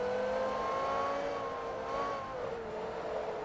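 A race car engine in Forza Motorsport 3 revs quickly through its range, a steady tonal whine climbing and dipping once, loud and close with no talking.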